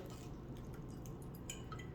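Water drips from a ceramic plant pot with no drainage holes, small faint irregular drops over a steady low background hum, quiet and close, with no talk.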